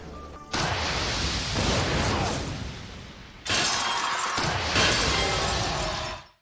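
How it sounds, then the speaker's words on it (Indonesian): Anime swords shattering as arrows strike them, two loud bursts of breaking, crashing metal-and-glass-like debris, each ringing out and decaying before the next hit, close and dominant. "Makoto sengaja tidak mengenai Sofia, dia hanya memanah pedang-pedangnya."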